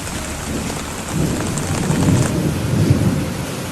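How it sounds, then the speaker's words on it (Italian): A thunderstorm with heavy rain pouring down steadily and thunder rumbling low, swelling louder through the second half; no voices. "La pioggia cadeva a rovesci da un cielo sconvolto dai lampi"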